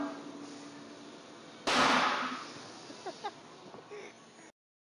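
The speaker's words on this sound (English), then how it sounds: "throwing firecrackers at them" A firecracker goes off with a sharp, loud burst as it is tossed at coworkers, followed by a few short crackling pops and clicks that fade over the next couple of seconds.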